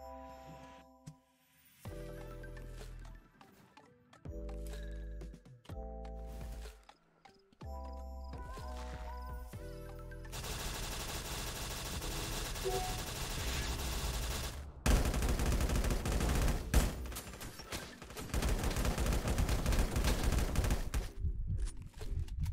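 Gunfire in the survival shooter LifeAfter during a rifle quest: bursts of rapid shots start and stop at first, then give way to long, loud, sustained automatic fire close by.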